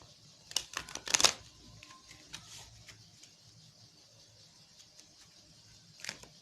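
Tarot cards drawn from a deck and laid out on a surface in a quiet room, with a quick cluster of soft papery slaps and clicks near the start, then scattered light rustles and one more faint flick at the end.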